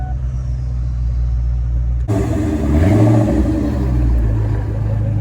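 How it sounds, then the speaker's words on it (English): A 2004 Ford Mustang Cobra starts to move off, its engine swelling into a loud, close rev and then settling into a steady drone as it pulls away. "Here we go, guys. Off in the Cobra."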